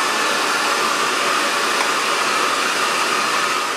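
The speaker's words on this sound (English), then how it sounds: "So I'm going to be using a hairdryer." A hair dryer runs steadily and close by, blowing to dry styling product into hair before sectioning for a glamorous evening look; a constant broadband whoosh with no talk.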